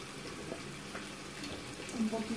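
Water is poured into a pan of pork chops cooking in chipotle chile sauce, giving a soft, steady sizzle and splash for a couple of seconds with light kitchen noise.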